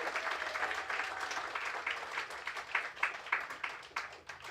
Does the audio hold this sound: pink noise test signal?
no